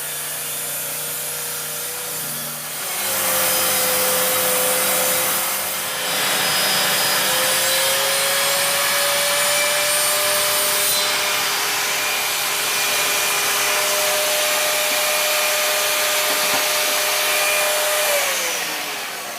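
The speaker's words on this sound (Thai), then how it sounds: "อันนี้ผมจะใช้เลื่อยวงเดือนนะครับ" A circular saw whines loudly and continuously as it cuts through wood, the motor pitch steady with a brief dip partway, no voices.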